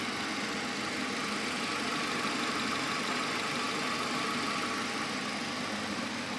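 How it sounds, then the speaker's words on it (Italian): Old three-door Renault Clio 1.2 engine running at idle, a steady, even mechanical hum with light knocking texture, moderately quiet and continuous with no talking. "Comunque il motore per ora gira bene"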